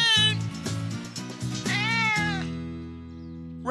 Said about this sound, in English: Here, kitty, kitty, kitty, kitty. Meow!